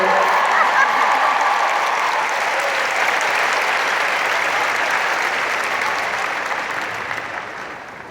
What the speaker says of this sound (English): I think that deserves an applause if you've got nothing else to do.